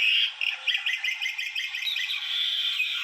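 A pet mynah bird calls out in a rapid run of shrill, chattering squawks and chirps, loud and close, with no one talking over it.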